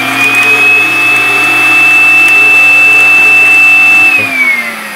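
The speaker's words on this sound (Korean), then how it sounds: "브러쉬와 청소기를 이용해서 한번 그 먼지를 제거를 해줍니다" A vacuum cleaner sucks dust from a computer's memory slot, its loud steady whine holding a high pitch for about four seconds before the tone drops and slows as it powers down.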